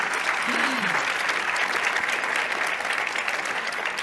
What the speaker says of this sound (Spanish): a pedir un fuerte aplauso para ellas